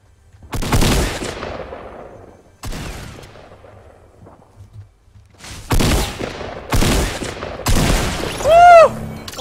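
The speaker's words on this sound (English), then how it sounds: "I had to shotgun a fellow player over here." Shotgun blasts in Fortnite Battle Royale, about five loud, sharp booms spaced a second or two apart, each with a short ringing decay and quiet game sounds between them.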